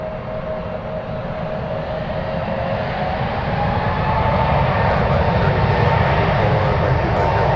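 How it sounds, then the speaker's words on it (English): JetBlue airliner taking off from runway 1 right at San Francisco airport, a steady broad jet engine roar that builds gradually in loudness and holds, with no talk. "JetBlue taking off right now."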